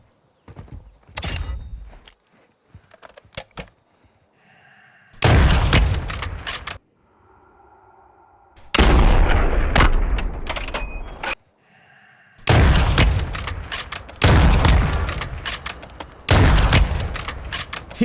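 Gunfire in the video game Warzone 2: loud bursts of rapid shots in several clusters, separated by short quieter gaps, close and sharp throughout.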